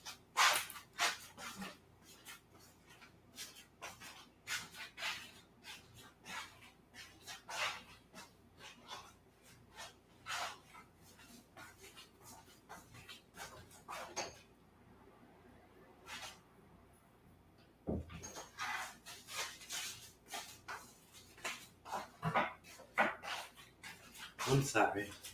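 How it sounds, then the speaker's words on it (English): Dog trying to get out of a room, with scattered barks, panting and whimpers, fairly close but moderate in level, mixed with a person talking and a brief lull partway through. "My dog is trying to get out of the room as usual."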